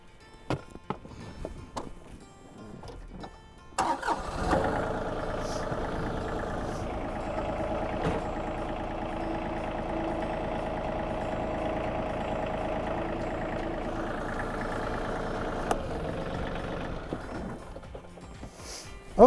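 A John Deere tractor engine starts after a few clunks and runs at a steady idle while an iMatch quick-hitch is lowered, a continuous close mechanical hum with a few sharp knocks before it cuts off.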